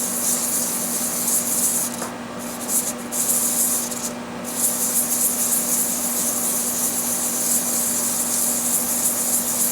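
Hand sanding of a Citizen ProMaster diver watch, a steady, close, continuous abrasive rubbing with slight strokes and pressure changes, heard alone without talk.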